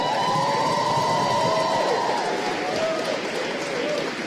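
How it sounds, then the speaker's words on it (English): Applause from the audience at an awards presentation for the 2014 International Cadet Championships, honouring the competitors' managers: a dense, continuous wash of clapping at even volume, with a faint tone sustained over it. "Give them a clap."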